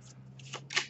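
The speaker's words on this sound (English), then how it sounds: "I'll keep shuffling the deck for a moment." A tarot deck is shuffled in short bursts of riffling card flutters, close and fairly quiet, with the last burst loudest.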